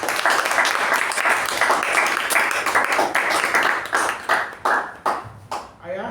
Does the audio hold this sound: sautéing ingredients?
no